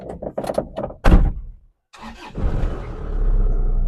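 A door thunks shut, a moment of silence, then the engine of a red 2005 Isuzu Panther LV Adventure in a showroom cranks and catches, settling into a steady idle rumble.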